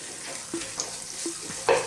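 Red onions and garlic ginger paste sizzle in a pan and are stirred now and then, with faint frying and a few scraping strokes close by.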